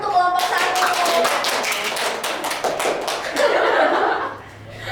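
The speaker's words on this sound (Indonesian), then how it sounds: "Tepuk tangan untuk kelompok 1" A classroom of students applauds a group, dense, brisk hand clapping that swells and then fades over several seconds, mixed with chuckles and light laughter.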